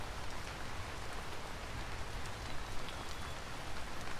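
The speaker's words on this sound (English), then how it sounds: "did you hear how the rain changed the sound of it? You can hear it hitting the leaves now." Steady rain pattering on leaves in Vintage Story, a dense even hiss of drops that holds at a constant moderate level throughout, with no voices.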